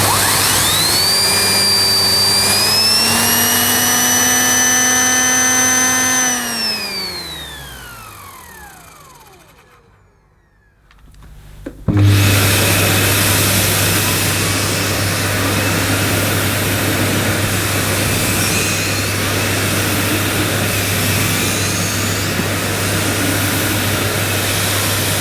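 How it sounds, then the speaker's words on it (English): A steady, loud motor whine winds down to near silence, then a broadband roaring hum kicks in abruptly and runs on evenly as a Sebo K1 upright vacuum cleaner switches on over carpet. "This will add to the noise level of the vacuum."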